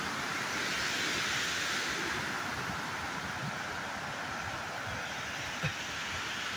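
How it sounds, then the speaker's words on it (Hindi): The Shyok river flowing at Turtuk, a steady, broad rushing of water that stays constant and fairly close throughout, with no voices. "तो ये देखो कितना खूबसूरत पानी आ रहा है यहाँ से"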